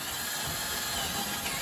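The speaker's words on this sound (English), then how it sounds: "you drill your hole." A steady, high-pitched drilling whine runs continuously at moderate volume throughout, with no voices, as a hole is drilled through a kayak hull to fit an outrigger flange.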